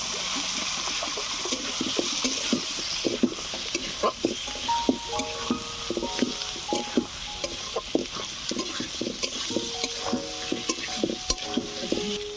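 Washed potatoes sizzle in a pan while being stirred, a steady fry hiss broken by frequent close scraping and clacking stirs, with faint speech in the background.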